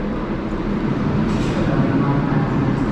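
A New York subway train pulling away underground, a loud steady rumble and rolling roar of wheels on rails with faint high screeches, close and continuous.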